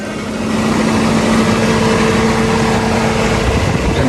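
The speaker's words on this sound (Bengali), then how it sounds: "ইঞ্জিনের সাউন্ড" A Toyota Noah car engine idling steadily, a close, loud and even mechanical hum with a faint tonal whine, heard alone.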